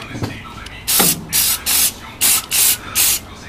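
Aerosol cleaner sprayed in six short, loud bursts over the plastic connections at the top of a car engine bay, a moisture-removing treatment on a Volkswagen Vento, with a few faint knocks before the spraying starts.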